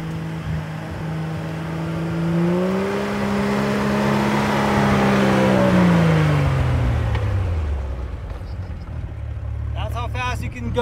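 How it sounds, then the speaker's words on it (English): A Jeep XJ Rubicon with a 4-to-1 transfer case drones in first gear down an off-road hill, the engine pitch rising and falling steadily as it crawls, with someone talking over it. "this is the point you have to actually give it gas to get down the hill"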